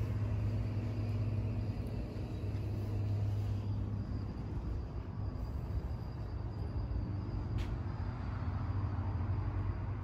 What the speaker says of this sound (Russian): Проезжают некоторые машины.